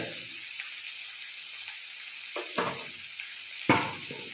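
Vegetable thoran with its stems, with a pinch of turmeric powder, is stirred and mixed in a pan: a low, steady sizzle broken by a few distinct scraping strokes of the spoon, close and fairly quiet, with no talking.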